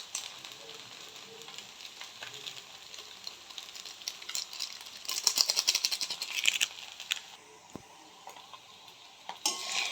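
Maggi noodles frying and being stirred in a pan with spice mix added, a soft steady sizzle with scraping and clinking of the utensil that picks up in the middle and ends with a sharp tap.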